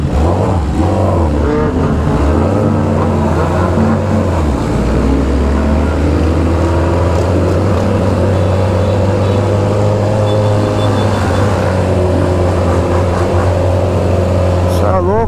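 A loud convoy of motorcycles, including a BMW S1000RR, roaring past close by, with engine drones rising and shifting in pitch over a continuous heavy rumble while people talk excitedly over it.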